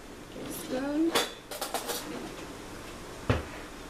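A spoon scrapes and clinks against a bowl while a chicken fajita mixture is stirred. The sound comes as a few close, sharp knocks and scrapes with quieter gaps between them, and a voice talks briefly.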